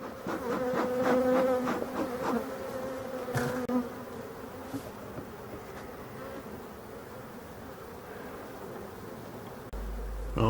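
Honey bees buzzing around an open hive during varroa treatment with Apivar strips, a close dense hum with individual bees whirring past the microphone early on, then a softer steady drone.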